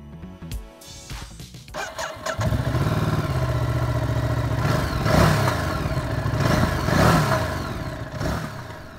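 A Ducati Multistrada 950 S engine starts with a brief crank, then settles into a deep, close idle and is blipped a few times, each rev swelling and falling back.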